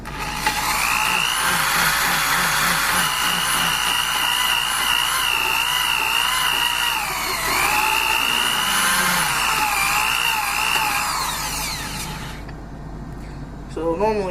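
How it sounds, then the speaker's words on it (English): Power drill spinning a valve back and forth for lapping on a 3520 engine, a steady loud whine that wavers in pitch with each direction change, running continuously and cutting off near the end. "Keep your drill in the same direction."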